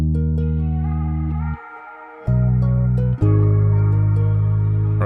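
A dark vocal sample processed with shimmer, tape delay and room reverb plays as sustained, harmonically rich tones in three loud phrases with brief breaks, the tails smearing into a washy, spacious sound.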